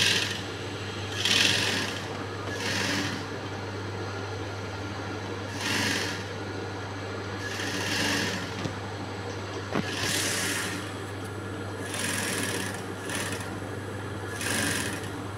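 A sewing machine stitches a blouse in repeated bursts of rapid mechanical whirring, each lasting about a second, separated by pauses while a steady low motor hum runs underneath throughout.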